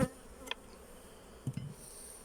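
A faint, steady honey bee buzz hums through the background during a honey harvest, with a few brief louder bumps and knocks close by; no one speaks.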